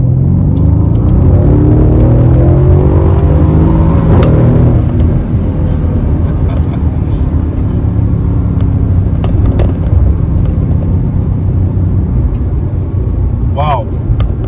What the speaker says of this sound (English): I don't know if you guys will hear that downshift